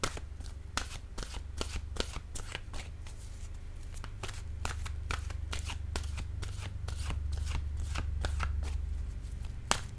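A deck of cards shuffled repeatedly, crisp riffling bursts in quick succession over a steady low hum, close and fairly loud throughout with no voices.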